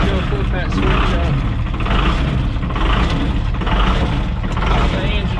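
Engine of an IH Dresser Dressta 175c track loader running close by, a loud, steady, unbroken rumble with mechanical clatter, with voices faintly mixed in.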